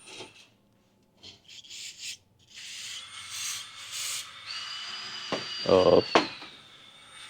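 Rag rubbing and wiping the intake of a 2012 Ford F-150 5.0 engine during injector O-ring work; close, intermittent scrubbing and rubbing strokes with a few sharper knocks, at moderate level.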